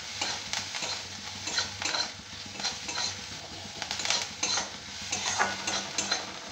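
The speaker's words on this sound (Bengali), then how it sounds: "পেঁয়াজগুলো একটু ভাজা ভাজা হয়ে গেলে" Onions sizzling in a pan while a spatula stirs and scrapes them, soft repeated scraping strokes over a steady frying hiss, fairly quiet and close.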